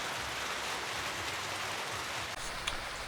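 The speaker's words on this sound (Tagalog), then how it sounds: "malakas yung ulan" Heavy rain pours steadily onto a plain sheet roof at a small rural pig farm, a dense, unbroken hiss that stays loud and close the whole time, with no voices over it.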